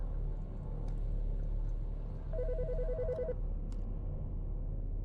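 A phone in the video game Autopsy Simulator gives one short burst of rapid electronic trilling, fairly soft, over a low steady background rumble with a few faint clicks.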